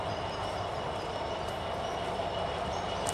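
A train passing nearby, a steady close rumble of wheels on rails with faint squeal and clatter, continuous and fairly loud with no talking.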